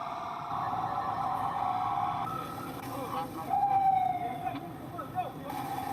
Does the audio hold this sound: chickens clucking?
no